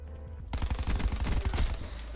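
Rapid automatic gunfire from a Call of Duty: Black Ops 4 match bursts in suddenly and stays loud and dense as a steady stream of shots, with no talking.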